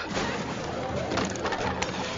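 Doves coo amid a busy, noisy background in a temple setting where sellers keep the birds, a steady wash of sound with soft bird calls running through it for a couple of seconds.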